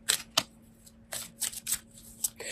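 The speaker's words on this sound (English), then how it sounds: "So now I am shuffling one of our Archangel Raphael Healing Oracle cards" Oracle cards are shuffled in a few quick, soft riffling bursts with short pauses between them, close and quiet.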